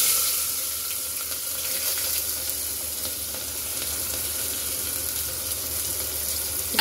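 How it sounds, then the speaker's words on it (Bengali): Onion fries in a pan with a steady, loud sizzle that continues evenly throughout, close up and with no voices. "পেঁয়াজটা একটু ভালো করে ভাজা হয়ে"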